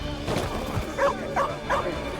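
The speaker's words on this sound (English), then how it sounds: "The doggy!" Dog in the video game Two Falls barking and yipping in three short, sharp bursts close by, with a whimpering edge, over a low background.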